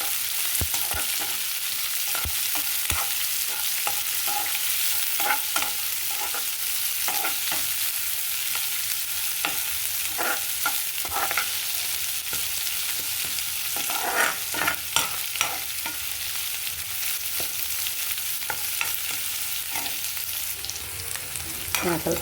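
Onions and green chillies fry in a pan for potato sagu, giving a steady sizzle broken by repeated scrapes and taps of stirring, close and continuous with no talking.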